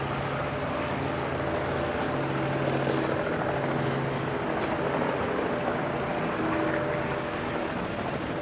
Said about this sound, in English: There's a helicopter landing.